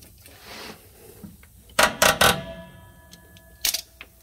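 Brake adjuster on a trailer being turned to loosen the brake pads, a few short, sharp metallic clicks and scrapes heard close up in quick succession, then one more click after a pause.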